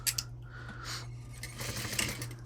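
Sewing machine stitching backpack fabric that has plastic-covered lights laid in, a steady close mechanical whir with a low motor hum running the whole time, alone without talk.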